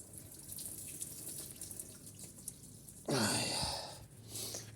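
Water running down a drain, a quiet background hiss that swells into a sudden louder rushing, gurgling flow for over a second before easing off, close by with no talking.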